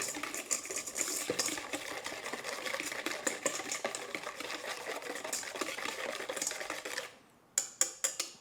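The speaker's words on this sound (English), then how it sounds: "taking a balloon whisk, we're just going to mix this all up." Balloon whisk beating chocolate ice cream base in a bowl, a rapid, steady run of close clicking taps for about seven seconds, then a short pause and a few final taps.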